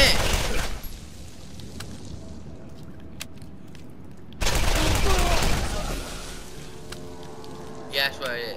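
Gunfire in the Borderlands video game: a loud burst of shots opens the clip, a second sustained volley follows midway, and a brief final pop comes near the end. Quieter ambient game sound fills the gaps between them.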